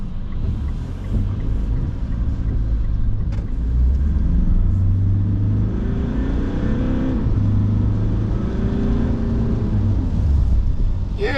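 A 2022 Mitsubishi Triton GLS pickup drives out on a main road, its engine rumbling and pulling through gears with steady road noise, loud and close inside the cab, no talk.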